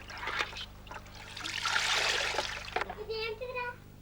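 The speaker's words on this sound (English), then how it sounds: "if they pour it through a soap dish, it makes a shower" Water poured through a soap dish to make a shower during children's water play: a hissing spray of drops for a couple of seconds, framed by trickles and a voice chattering nearby.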